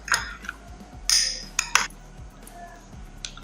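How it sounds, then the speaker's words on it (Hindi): A spoon clinks against a bowl while mixing homemade mayonnaise paste into chopped apple, with a few sharp metallic taps scattered over soft stirring. "ये मैं इस एप्पल में ऐड करने लगी हूँ। इसको मैं मिक्स कर रही हूँ।"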